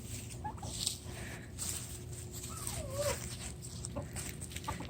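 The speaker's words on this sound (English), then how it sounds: "Then you can see our baby turkey." A young farm turkey named Shiloh lets out thin, wavering gobbling calls amid soft clucking from nearby fowl, against a low steady rumble.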